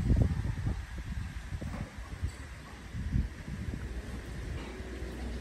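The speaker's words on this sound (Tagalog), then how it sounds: "Mahangin pa rin." Gusty wind after a typhoon sweeping across a rural yard with damaged plants and banana trees, a steady low rumble of buffeting air with rustling gusts swelling and easing, fairly close and continuous, no rain.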